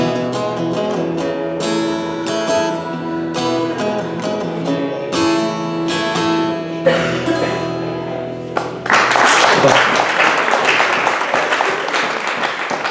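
Music plays for several seconds at an acoustic cafe, then loud, sustained audience applause bursts in and fills the rest of the clip.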